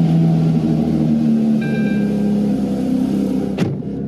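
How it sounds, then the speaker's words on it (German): A Porsche GT3 engine cold-starts after a week unused, idling with a loud, steady low rumble and ending in a short sharp whoosh as the revs shift. "So, Kaltstart GT3."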